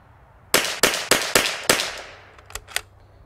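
Five sharp, loud shots from a Bergara B14R Heavy rifle crack in quick succession, followed by two fainter distant pops.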